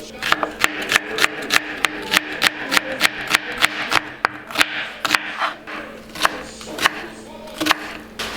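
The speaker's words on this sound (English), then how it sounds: "now he's gonna cut up some onion" A knife chops onion for a catch-and-cook peacock bass meal, sharp rhythmic thuds on a cutting board in quick close bursts with brief pauses between runs of strokes.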